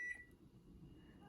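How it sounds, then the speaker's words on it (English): As power returns after an outage, a microwave oven gives one short, faint electronic chirp at the start, followed by quiet room hum. "That was the microwave chirping to life."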